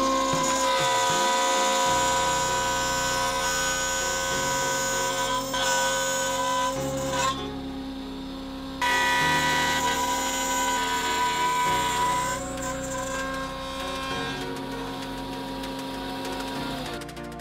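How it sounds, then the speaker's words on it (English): A router fitted with a 5 mm bit cuts holes in wood, a loud, steady high-pitched whine with tonal shifts as the cut changes, briefly dropping out once, with no voices. "With a router I cut from hole to hole."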